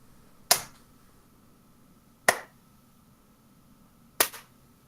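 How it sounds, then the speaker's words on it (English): Three slow, sharp single claps spaced about two seconds apart, each a crisp isolated crack with a quick decay over a quiet background. "a low clapping sound"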